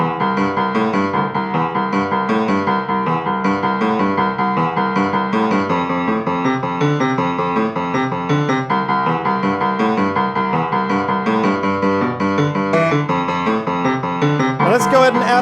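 Rock'n'roll piano plays a left-hand pattern through a full 12-bar blues, a steady, loud, rhythmic bass figure repeating throughout with no voice.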